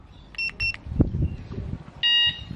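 A keyless motorcycle security system chirps after its remote lock button is pressed twice: two short electronic beeps, then a longer beep, with faint handling noise between.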